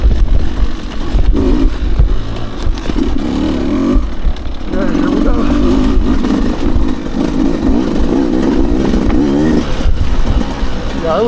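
A Beta 200 RR dirt bike engine runs continuously on a trail, loud and close with throttle swells and clattering, while a rider talks over it.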